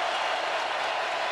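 An Auburn football stadium crowd roars in a dense, steady wash of noise from thousands of fans at an Alabama versus Auburn college game.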